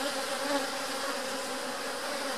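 Very dark little bees buzz steadily at an opened hive during a split, a dense, continuous close drone of many insects with no talk over it.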